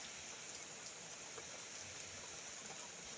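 Steady rain falls outdoors, birds out flying in it, as a faint, even hiss of drops that continues unbroken throughout.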